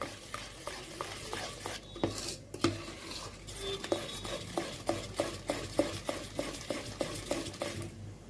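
Dhokla batter with Eno fruit salt being stirred briskly in a bowl, a steady run of quick scraping clinks and swishes repeating about twice a second, close and alone with no talk.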